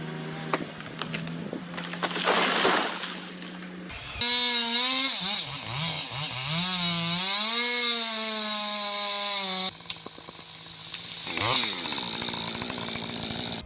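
A chainsaw cuts trees, its engine roaring and bogging down, then revving again in sweeping pitch changes. The saw sounds close and continuous, with rough cutting noise between the revs.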